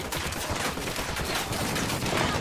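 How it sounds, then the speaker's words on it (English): Gunfire in Ghost Recon Wildlands rattles in a dense, continuous fusillade of rapid shots, loud and close, with overlapping bursts filling the whole stretch without a break. "I'm opening fire."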